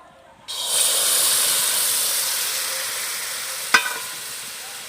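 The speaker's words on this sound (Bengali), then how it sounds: "এবার খেজুরের গুড়টা আমি কড়ার মধ্যে দিয়ে দিচ্ছি" Date palm jaggery dropped into a hot wok on a lit stove bursts into a sudden loud hiss that fades slowly, with one sharp clink of a utensil near the end.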